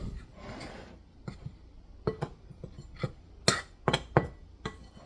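Seasonings being stirred into a bowl while cooking turkey wings: a few light scrapes are followed by scattered sharp clinks and taps of a utensil against the bowl, close and fairly quiet.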